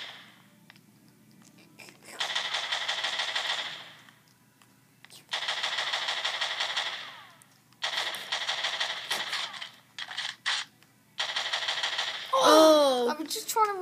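Bursts of rapid automatic gunfire from a Call of Duty Modern Warfare 1v1 match, several sustained loud volleys separated by brief pauses, followed by a short electronic effect at the end.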